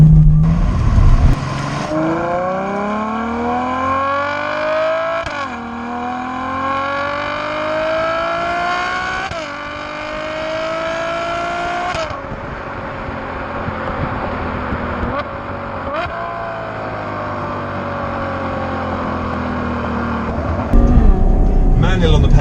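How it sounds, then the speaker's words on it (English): Ferrari GTC4 Lusso V12 engine revving hard through the gears with paddle shifts, a loud, close, rising howl that climbs and drops at each of several upshifts, with a brief louder burst at the end. "when you get the revs up, when you get those valves open, this engine just sounds like an absolute marvel"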